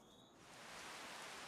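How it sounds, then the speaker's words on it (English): Rain in Farming Simulator 25 swells from a quiet start into a steady, dense hiss of downpour that fills the scene, with a faint high tone fading out in the first moments and no one speaking. "Oh, good, and now it's raining."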